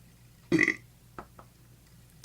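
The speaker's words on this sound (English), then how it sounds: "I'll try not to burp" A man lets out one short, close burp near the start, followed by a couple of faint clicks and small noises in an otherwise quiet room.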